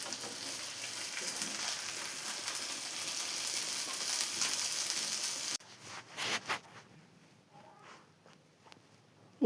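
Fish fries in a pan with a dense, steady sizzle for several seconds, then cuts to quieter, uneven spitting and a few clatters as the pan settles.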